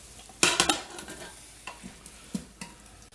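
Beef pieces for an Italian stew browning in a hot pan: a burst of loud sizzling as the meat goes in, then a quieter sizzle broken by several utensil scrapes and knocks, close up and without voices.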